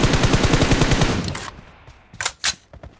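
A loud, rapid burst of automatic gunfire in BGMI, a mobile battle royale shooter, fires steadily for about a second and a half. After a brief gap, two sharp single shots follow.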